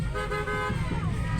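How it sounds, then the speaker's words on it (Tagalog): A car horn sounds in a sustained toot over engine and road rumble, loud and close. "busina na, busina na."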